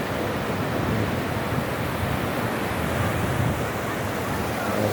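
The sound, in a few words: sea waves breaking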